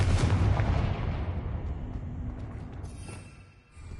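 A Confringo blasting spell explodes in the Hogwarts Legacy video game: a loud, booming burst at the very start that rolls away into a long, rumbling decay.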